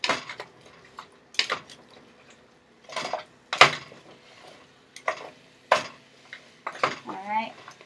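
Japanese-style curry being stirred in a pot on the stove, with a series of spaced scraping and clinking strokes of a utensil against the pot, close and moderately loud, with no talk.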